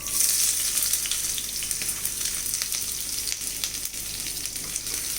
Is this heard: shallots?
yes